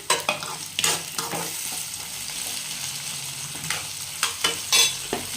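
Raw banana pieces fry with added tomato for a gravy, giving a steady close sizzle broken by repeated scraping stirs of a spoon in the pan, with no one talking.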